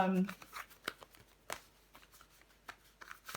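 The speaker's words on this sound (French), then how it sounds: "On va recouvrir des cartes." Tarot cards are handled and laid down, giving soft, close card slaps and shuffling flicks, with a voice talking over them.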